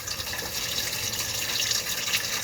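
Tap water runs steadily over tie-dyed beans being rinsed, a continuous close splashing hiss with no voices.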